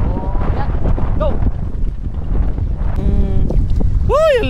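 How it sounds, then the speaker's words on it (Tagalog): Strong wind buffets the microphone during a boat crossing at sea, a steady low rumble throughout, with people's voices and excited shouts breaking in over it. "Sobrang lakas talaga ng hangin"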